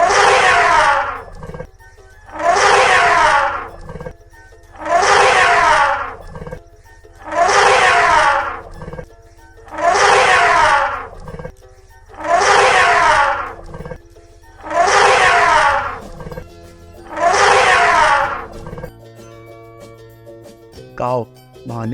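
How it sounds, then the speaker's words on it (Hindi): An elephant calls eight times in a row, each loud, harsh, trumpeting blast lasting about a second and a half, evenly spaced and close, ending in a short quieter stretch. "एलिफेंट माने हाथी।"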